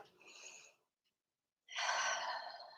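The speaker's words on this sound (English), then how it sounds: "Take a breath in and out." A slow, calm breath in and out during a Tai Chi session: a soft, close inhale, a brief quiet pause, then a longer, fuller airy exhale, alone with no talking.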